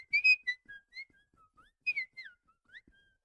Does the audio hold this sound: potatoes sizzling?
no